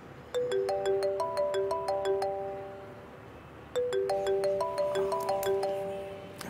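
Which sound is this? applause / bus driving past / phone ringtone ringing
phone ringtone ringing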